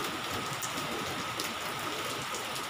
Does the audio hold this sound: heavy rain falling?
yes